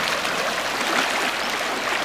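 Cool, clear stream running through a rural garden plot, giving a continuous bright rush and gurgle of flowing water at close range, steady throughout with no voices.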